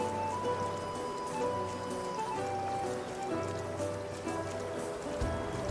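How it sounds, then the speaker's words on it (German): Rain in the survival game Raft falls in a steady, even hiss of drops across the surface, mixed with soft in-game tones and no speech. "wir können hier noch außenrum ein bisschen was machen und es regnet."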